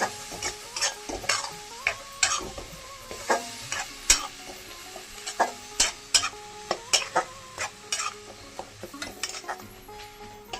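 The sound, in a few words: onion paste frying and being stirred in a pan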